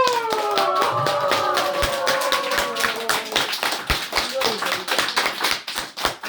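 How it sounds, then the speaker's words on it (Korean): Audience at a Buddhist celebration service clapping, with rising cheering and whoops at the start giving way to rhythmic, evenly spaced hand claps in unison, loud and close. "크게 박수를 치고 환호성을 우!"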